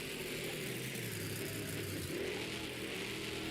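A monster truck engine roars continuously at a Monster Jam World Finals qualifying run, a dense, distant and fairly faint rumble with no clear rises or breaks.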